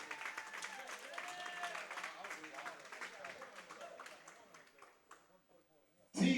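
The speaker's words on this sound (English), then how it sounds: "Let's give these two boxers another round of applause." An arena crowd at a boxing fight night claps and cheers for two boxers, a dense burst of applause with voices mixed in that gradually thins and fades, ending with a sudden loud thump.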